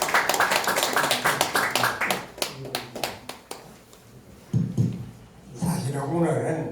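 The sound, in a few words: audience applause welcoming a speaker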